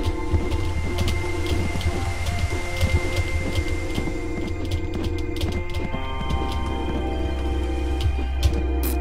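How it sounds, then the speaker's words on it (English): Steady rain in the game Dig or Die, a constant dense patter with scattered louder drops and low rumbling underneath, continuing throughout with no voices. "It's raining as usual."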